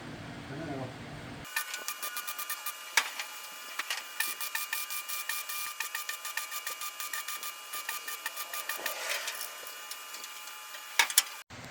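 Welding on the transmission tunnel of an antique truck during a rebuild, heard as a steady, close, crackling buzz with rapid regular pops that starts abruptly and runs on, briefly pausing before it ends.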